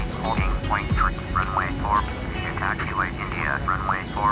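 A Boeing 787-9 airliner taxis in a flight simulator game, its steady engine rumble droning throughout with brief chirping tones over it and no talk.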